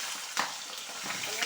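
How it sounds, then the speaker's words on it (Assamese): Boiled pork pieces hit hot oil in a wok, giving a steady crackling sizzle with a brief louder burst near the start as the meat goes in, close and alone. "অলপ ভাজি দিম"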